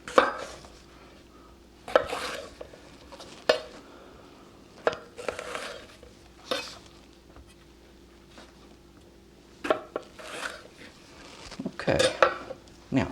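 A knife slices jalapeno peppers in half on a cutting board, with sharp, irregular knocks and clicks of the blade against the board and a few clattering dish sounds in between, close and fairly quiet.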